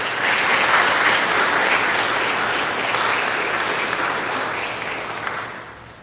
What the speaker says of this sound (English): Let us all give them a huge round of applause.